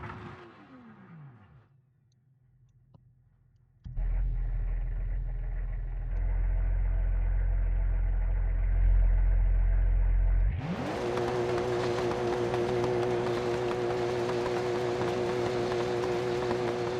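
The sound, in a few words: Porsche sports car engine driving off-road in BeamNG video game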